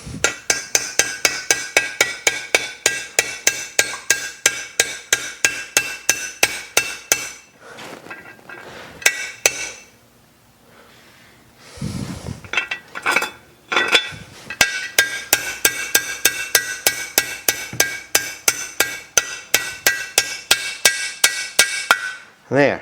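A 1963 Johnson 40HP Sea Horse outboard bearing set on a bolt and tapped down, heard as a long series of regular sharp metallic hammer taps, a quieter pause midway, then the steady tapping resumes close up.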